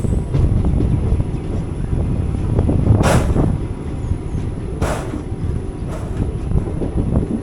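Intercity Express passenger train rolling past the Shoranur A cabin on the link line, a steady loud rumble of wheels and carriages heard from on board, with brief hissing bursts over the continuous noise and no talking.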